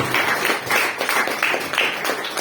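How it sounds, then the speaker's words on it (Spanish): A church congregation claps hands together in praise during a service, a dense, lively patter of many hands pulsing in a rough rhythmic beat, close and fairly loud. "Dale palmas al Señor."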